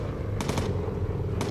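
Machine gun fire from the World War II bomber game Bomber Crew: a short rapid burst, then a second brief burst about a second later, over a steady engine drone.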